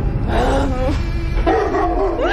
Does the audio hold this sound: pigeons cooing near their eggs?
no